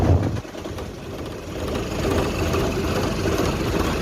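A 135 PS Ragasa diesel truck engine idles steadily nearby, a continuous low rumble with a faint rattling texture.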